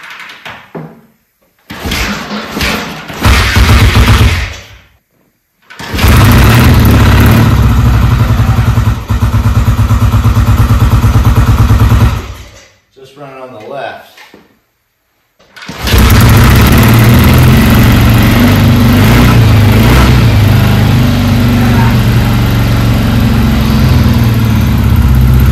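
A 1967 BSA Spitfire Mark III twin motorcycle engine loud and close, catching and running in rough roaring bursts that cut out twice before settling into a sustained steady drone.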